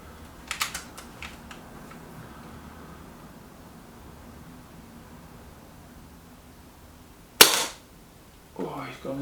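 A Kral Empire X bullpup air rifle fires a single pellet: one loud, sharp crack near the end. Light mechanical clicks come early, and quiet background hiss fills the gaps.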